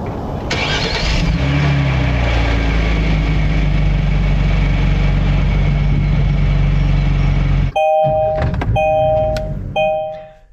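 A 2018 Kia Stinger GT with a 3.3-litre twin-turbo V6 cranks and fires up loudly, settling into a steady, deep idle for several seconds before cutting off, followed by a series of chimes from the car.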